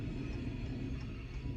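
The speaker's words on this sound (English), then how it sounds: "be nice if this train hurried up." A passing train rolls past as a steady, low, continuous rumble, faint and even throughout, with no talking.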